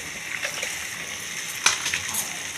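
Water is poured from a rinsed mixer jar into a pan of tomato chutney, soft splashes and sloshing at close range with one brief sharper splash midway.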